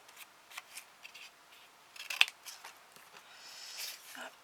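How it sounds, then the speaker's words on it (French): Scissors give a quick trim to the edge of a disc-bound notebook cover: several short, faint snips and clicks spaced irregularly, with one sharper cut near the middle and no talking. "Allez, un petit coup de ciseau, finalement."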